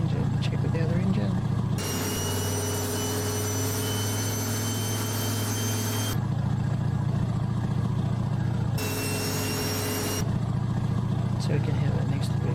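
American Truck Simulator Battle Truck mod engine running steadily, switching between two engine sound versions with abrupt cuts, a constant low hum under occasional speech.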